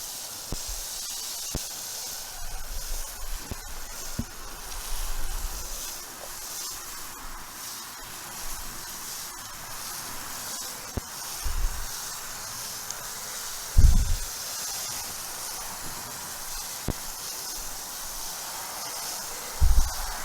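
Water sprays steadily onto a soil garden bed being soaked before carrot sowing, a continuous close hiss with occasional soft thumps and knocks, no talking.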